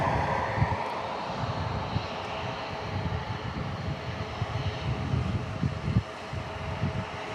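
A Frontier Airlines Airbus A320 at San Diego International Airport, its jet engine giving a steady, broad roar that rises slightly mid-way, heard from a distance outdoors with a bit of wind and no talking.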